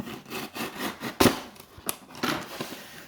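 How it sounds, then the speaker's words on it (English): Scissors cut open the packaging of a Tryone gooseneck tablet stand, giving close, rasping snips and plastic crinkling with one sharp, loud snap partway through. "there you go, cut it open."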